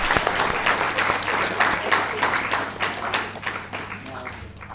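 A crowd at a panel discussion applauds steadily, dense clapping filling the room and tapering off toward the end.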